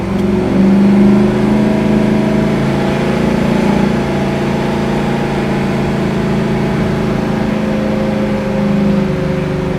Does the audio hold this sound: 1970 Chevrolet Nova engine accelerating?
yes